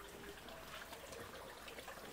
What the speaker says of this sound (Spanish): Mira cómo se filtra el agua.